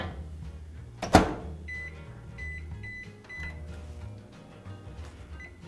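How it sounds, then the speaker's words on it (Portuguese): A microwave oven runs on high power heating a banoffee pie filling, giving a steady low hum after a loud click of the door or button, with faint rattles and an electronic tone on top. "E agora eu vou voltar novamente lá no micro-ondas por mais 3 minutos."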